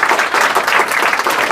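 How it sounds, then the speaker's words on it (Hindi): A crowd claps steadily at a Hindi motivational talk about Krishna, a dense, even wash of applause from many hands that fills the whole moment without pause, with no voices rising above it. "ताली बजाओ, कौन सा बनेगा?"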